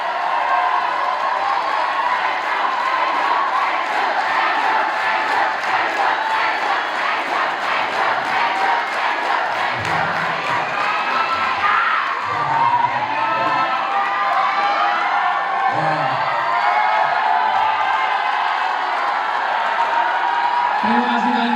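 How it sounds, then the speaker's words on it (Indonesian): A large audience at an Indonesian televised idol singing show cheers, shouts and claps for Shakira, a loud sustained crowd roar with whoops, while a host speaks over it. "tepuk tangan sekali lagi untuk Shakira."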